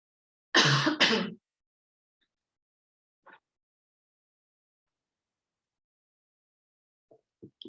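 A single throat-clearing cough rings out close and loud near the start, then near silence with a few faint clicks.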